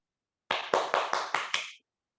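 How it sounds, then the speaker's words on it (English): Clapping heard over a video call: six sharp, evenly spaced claps in quick succession, close and slightly compressed, starting abruptly after silence and cutting off cleanly. "Can we unmute so that everyone can hear each other's clap?"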